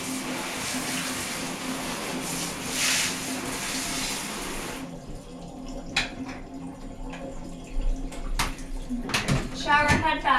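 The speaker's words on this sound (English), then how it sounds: "And we'll rinse the whole tub." A bathtub rinsed with running water during cleaning, a steady close rush of water for about five seconds, then quieter drips, clinks and handling noises with a brief voice near the end.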